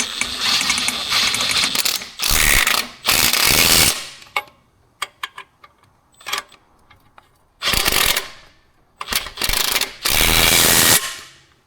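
A ratchet wrench tightens bolts on an MR2 VW turbo engine swap kit, with loud bursts of rapid clicking separated by pauses and a few single clicks and taps, close up and with no talking.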